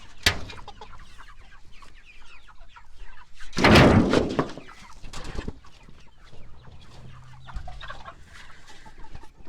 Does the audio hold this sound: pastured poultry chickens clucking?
yes